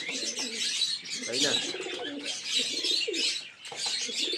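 Pigeons coo and murmur in a steady, fairly close flock, with a few chirps mixed in and a voice speaking briefly over them.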